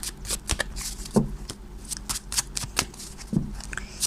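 Tarot cards are shuffled and drawn in quick succession, a steady run of crisp close snaps, slides and taps heard on their own without talk.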